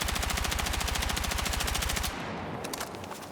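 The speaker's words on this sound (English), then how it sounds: "So I'm going to stay still, I'm going to jump, and I'm just going to shoot." Rapid automatic gunfire from a jump-shooting weapon in the video game Battlefield 6, a loud, even burst of shots for about two seconds that stops abruptly, followed by quieter game sounds and a few faint clicks.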